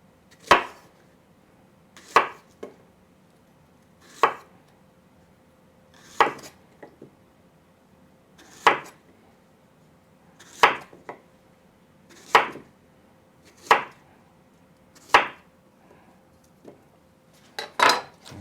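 A knife cuts green bananas into thick slices on a board, producing a dozen or so crisp, evenly spaced chops close up, each a sharp knock, with near silence between strokes.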